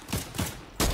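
Gunfire in the battle royale video game Fortnite: three quick, loud bursts of close shots within a second, sharp and punchy with no talking over them.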